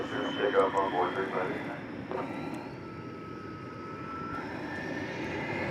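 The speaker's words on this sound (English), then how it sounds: "Hey, Walt, American 525 approaching" An American Airlines jet on approach to runway 17 Right at DFW Airport on a summer morning, inbound from Cleveland: a steady broad engine roar with a faint rising whine, louder at first, then holding at a constant level, with a voice briefly over it early on.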